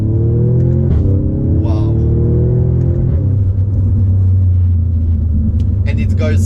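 The engine of a 2018 Audi S3 with an ABT power kit and a seven-speed automatic transmission rumbles loudly as the car accelerates, and a gear change breaks the rising tone partway through. Someone speaks briefly over the sound.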